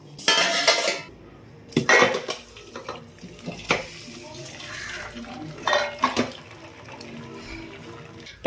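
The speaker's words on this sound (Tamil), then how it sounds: "இப்போ நம்ம இதை வடிகட்டிடலாம்" Cooked karunkuruvai rice is drained of water in a kitchen: pots clank and bang in bursts, with pouring and trickling water in between.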